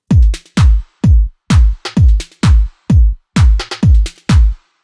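Programmed drum loop in Ableton with punchy kicks, a clap loop and a snare grooving, plus a light tambourine on top; steady four-on-the-floor pattern of strong, bright hits playing alone with no talk.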